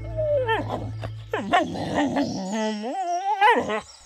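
A dog whimpers and moans in a drawn-out, mournful way, with rising and falling whines and short yelps repeated close to the microphone.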